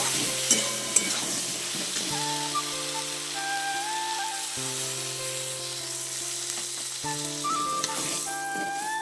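Spices frying with a pinch of sugar in a pan are stirred in a steady loud sizzle, with spoon scrapes over a constant hiss and a few sharp clicks near the start.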